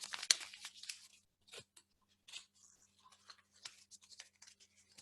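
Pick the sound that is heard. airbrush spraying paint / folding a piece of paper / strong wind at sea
folding a piece of paper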